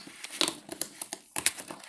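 A crinkly plastic blind box packet of Wakuku figures being torn open, giving a close, sparse series of sharp crackles and rustles in short bursts.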